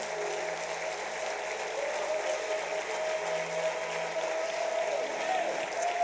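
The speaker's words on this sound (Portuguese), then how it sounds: "Aplauda bem forte o nome do Senhor." A church congregation claps steadily during a Sunday service, a continuous wash of applause in a reverberant hall with a faint sustained hum beneath.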